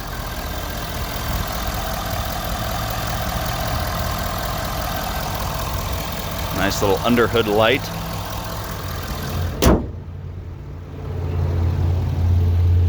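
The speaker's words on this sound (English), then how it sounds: "This engine runs remarkably quiet for being a diesel." The 6.7 Powerstroke diesel engine of a 2011 Ford F350 truck idles with a steady low rumble while someone speaks briefly over it, followed by a sharp clunk and quieter idling.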